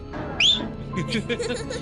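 In a Tamil film scene, a person gives one short, sharp rising whistle close by, followed at once by talking and light laughter.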